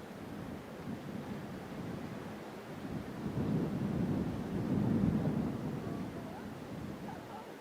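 Distant thunder rolls low and faint over the African savanna, swelling into a long soft rumble in the middle before easing away, with no other sounds above it.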